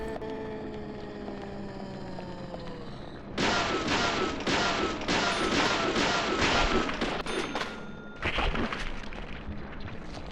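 Gunshots in the game Deadly Premonition ring out as a dense run of loud, rapid reports for several seconds, pause briefly, then return in another burst over a steady background drone.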